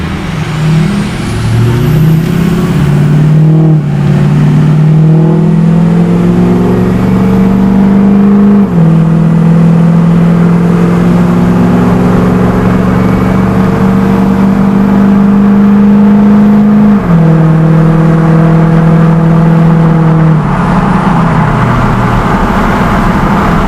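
A lifted Ford 6.0 Powerstroke diesel truck on 35-inch mud tires accelerates through several gears, the engine droning loud and close while a turbo whine climbs and drops with each shift.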